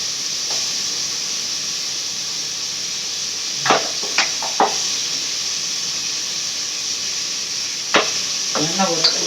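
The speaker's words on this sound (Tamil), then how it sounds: "வதக்கலாம்." Vegetables sautéing in a pan with little oil give a steady close hiss and sizzle, broken by a few sharp scrapes and clatters of stirring, with a brief voice at the end.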